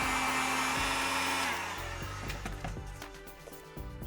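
A heat tool blows hot air steadily onto a foam armor spike, a loud continuous whoosh that softens partway through and carries on alone without talk.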